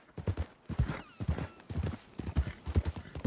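Horse hooves clip-clop in a steady walking rhythm in the video game Red Dead Redemption 2, a series of close, clear thuds repeating evenly throughout.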